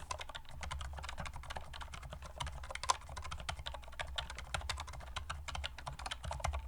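Steady typing on a Go60 split ergonomic keyboard fitted with light 30-gram silent linear Cherry Blossom switches, producing soft, muted, dense keystroke clicks in a continuous quick rhythm, close and fairly quiet, with no talking.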